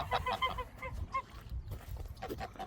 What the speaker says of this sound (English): these are geese.